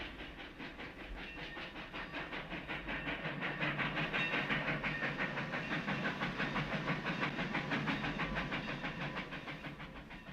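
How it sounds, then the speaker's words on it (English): A train rumbles steadily along with a faint rhythmic clatter and hiss, heard at a moderate distance with no voices. "At last it found itself on a train traveling across the country."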